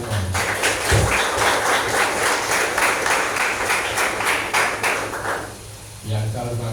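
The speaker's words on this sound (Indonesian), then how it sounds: "Tepuk tangan untuk itu semua." Applause from an assembled crowd at a school scout troop inauguration ceremony, a loud continuous clatter of clapping that fades near the end as a voice begins speaking.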